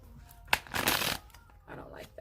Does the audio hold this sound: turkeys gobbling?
no